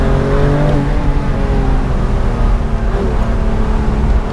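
A BMW M2 Competition engine revs hard and steadily under acceleration, a loud close droning roar with rising tones, no voices.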